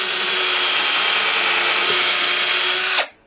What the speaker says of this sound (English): I'm always drilling a pilot hole